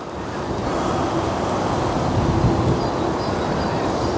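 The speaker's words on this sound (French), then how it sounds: "Le vent." Wind blows across an open golf course near the green, a loud, steady rush buffeting the microphone, with no voices heard.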